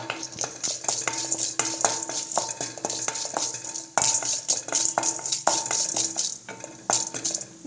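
Chana dal and urad dal frying in hot oil for a coriander chutney, with steady stirring and repeated metal clinks of a spoon against the pan over a continuous crackle.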